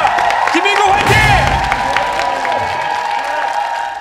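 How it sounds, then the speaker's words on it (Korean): Studio audience at a charity quiz show cheering, clapping and whooping loudly for a contestant, a dense sustained roar with shouts rising over the applause throughout. "자 우리 모두 응원 큰 함성 부탁드리겠습니다"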